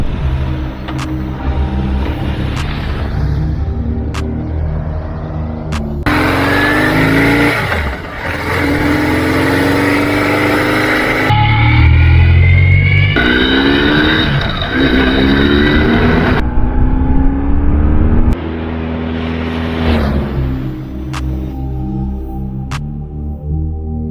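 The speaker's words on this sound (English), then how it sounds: "Cruising at 100 kilometers per hour, it's a little bit more than 3000 RPMs, and this engine feels just at home on a highway." A BMW R1150GS motorcycle cruises on a highway at about 100 km/h, just over 3000 rpm, its engine giving a steady droning hum with wind rush. The tone shifts slightly as the ride goes on.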